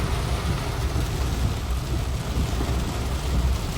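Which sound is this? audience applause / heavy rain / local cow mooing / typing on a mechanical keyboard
heavy rain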